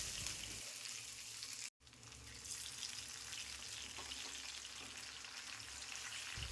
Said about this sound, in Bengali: ফোড়ন তেলের সাথে নাড়াচাড়া করে সুন্দর গন্ধ বের হলে দিয়ে দেবো 2টো মিডিয়াম সাইজের টমেটো।